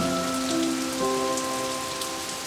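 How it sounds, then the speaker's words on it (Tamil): Steady rain pours outside a cave in an animated story, a dense continuous hiss of drops with soft background music tones underneath. "ஏரியும் கிளாராவும் அந்த குகைக்குள்ள போனாங்க அங்க உட்காந்து மழைய வேடிக்கை பார்த்துக்கிட்டு இருந்தாங்க"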